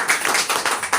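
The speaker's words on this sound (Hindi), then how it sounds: "ताली हो जाएगी।" Audience in a seated hall clapping together after someone answers a question at a talk, a dense steady patter of hands lasting about a second, near and fairly loud.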